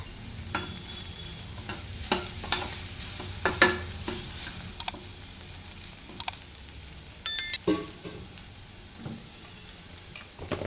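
Ginger garlic paste and turmeric fry in oil for dahi bhindi, a soft steady sizzle punctuated by sharp clinks and scrapes of a spoon against the pan at irregular intervals.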